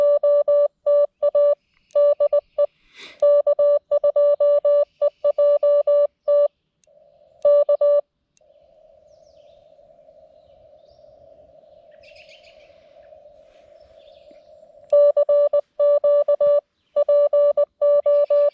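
Morse code CW tones calling CQ on a Lab599 Discovery TX-500 radio at a park station: clean, loud keyed beeps in rhythmic bursts, broken by a pause of steady hissy tone before keying resumes.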